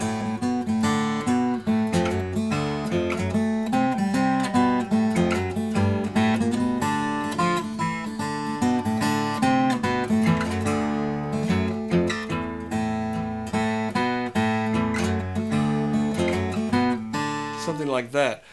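Blues lick played on a 12-string acoustic guitar in DADGAD tuning, a dense run of ringing picked notes and bass strums, close and continuous without talk.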